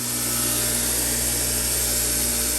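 Steady, continuous grinding whir of a power grinder regrinding a chisel bevel close up, loud and unbroken with a constant motor hum throughout.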